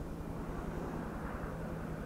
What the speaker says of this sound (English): I hear a chopper in that direction.